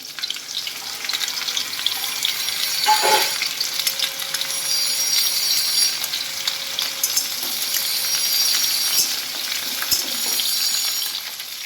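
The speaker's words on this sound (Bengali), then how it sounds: "এক একটা করে দেব আর একটু নেড়ে চেড়ে দেবো পটল ভাজাগুলো" Slices of pointed gourd (potol) sizzle steadily in oil in a pan, with occasional scraping of a spatula as they are stirred and a brief clatter early on; close and continuous, with no talking.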